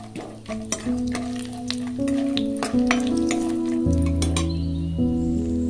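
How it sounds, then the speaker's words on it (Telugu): Peanuts and cashews frying in hot oil for vegetable upma, a steady close sizzle with stirring and a few light utensil clinks, while background music plays over it throughout. "ఆయిల్ ఎడెక్కింది కదా, ఇప్పుడు పల్లీలు వేసుకోండి."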